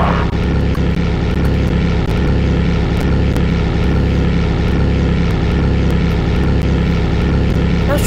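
A propeller airplane engine in a flight simulator game drones loud and steady throughout, a continuous close hum with no breaks and no talking.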